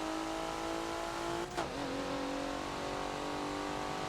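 A Porsche race car engine in the Forza video game on the Homestead Road Circuit, holding a loud steady high drone with a brief shift dip midway, then continuing strongly, with no talking.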